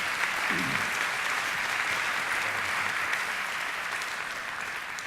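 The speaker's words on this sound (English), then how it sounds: "a round of applause for our panelists" A conference audience at the Greater Houston Partnership's 2011 economic outlook event applauds a panel, a steady, even roar of many clapping hands sustained for five seconds and slowly tapering.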